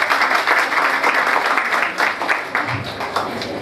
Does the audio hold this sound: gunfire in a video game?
no